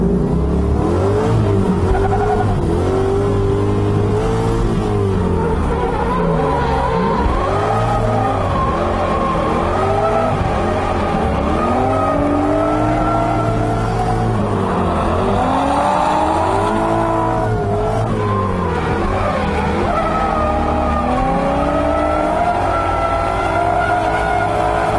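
An LS-swapped Mazda Miata revs hard and accelerates, the V8 engine note climbing and falling in repeated loud pulls as it bounces off the limiter in second gear, with some tire squeal mixed in and no talking.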